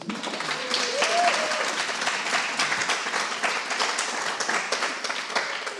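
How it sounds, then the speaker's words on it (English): Audience applause at an artist talk, sustained dense clapping from a crowd throughout, fairly loud and even, with a voice briefly heard over it early on. "I would love for you to give you a big applause for Lilli traveling down to Salzburg."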